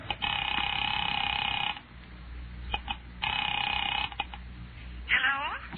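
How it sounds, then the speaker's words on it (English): Telephone in a 1945 old-time radio drama: two long bursts of buzzing ring tone separated by a pause with faint handling clicks, followed by a brief voice at the end. "Picking it up quietly, I dialed my daughter's number"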